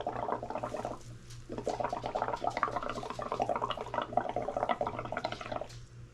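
UV resin bubbles pop and fizz in a dense, continuous crackle, close and steady, with a few brief pauses and no talking.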